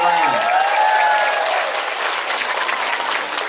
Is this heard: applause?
yes